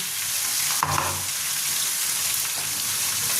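Crab pieces with chilli and cardamom paste fry loudly in a pan, a dense continuous sizzle broken by a scraping stir near the start.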